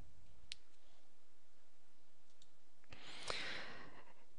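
Computer mouse left-clicks, two or three small dry clicks spaced a few seconds apart in a quiet room, with a soft breathy noise near the end.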